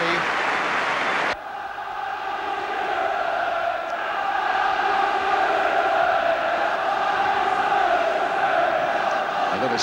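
A football stadium crowd roars during a match, a loud, sustained wall of cheering that cuts off abruptly near the start, then swells again and holds steady, broad and distant.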